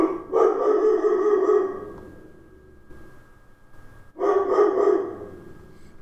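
A single dog barks indoors in two loud, close bursts of rapid barks, separated by a couple of seconds of quiet.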